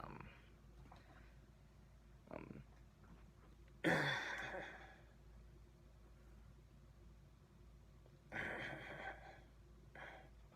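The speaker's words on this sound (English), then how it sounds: "sorry with the cough there" Two short, harsh coughs several seconds apart, fairly close, over a quiet hiss of background noise.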